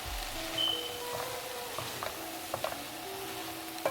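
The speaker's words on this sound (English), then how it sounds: "Now I'm gonna go ahead and stir that in." Stirring salt into sautéed vegetables in a pan, a soft scraping and stirring sound with a faint sizzle underneath, steady and close throughout with a few small clicks of the utensil.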